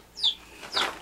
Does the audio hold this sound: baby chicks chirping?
yes